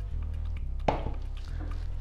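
Thick pancake batter poured into a container, with soft wet drips and one squishy plop under a low steady hum, close and fairly quiet.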